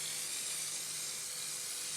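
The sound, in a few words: spray bottle misting glue over model static grass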